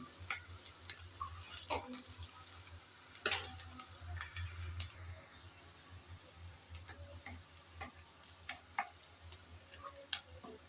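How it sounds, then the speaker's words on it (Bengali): Chopped onion and garlic fry in a pan for Bengali kachu loti, with a steady low sizzle broken by frequent clicks and scrapes of stirring. The sound is moderately quiet and nobody speaks. "কিছুক্ষণ নেড়ে চেড়ে পেঁয়াজ আর রসুন নেড়ে চেড়ে হালকা ব্রাউন কালার করে ভেজে নিলাম"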